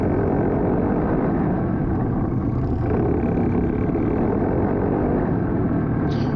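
A dirt-track go-kart racing engine roars loud and constant at close range during a race at Big B Speedway, a dense buzzing drone with no break and no voices.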